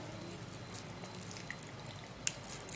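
Freshly pressed juice dripping into a homemade hair-growth treatment, faint soft drips with one small sharper drop near the end over low room hiss.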